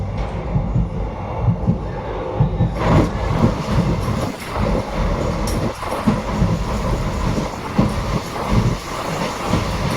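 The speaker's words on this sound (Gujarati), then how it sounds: "બાર આઉટર વટી ગયા એટલે સ્પીડ પકડી લીધી છે" A train clatters along with a rhythmic clickety-clack of wheels over the rails, the rumble loud and close from inside the car.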